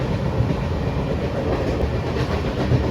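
A mail train slows as it approaches Malda Town station, heard from on board as a loud, continuous rumble with a rhythmic clatter of wheels on the rails.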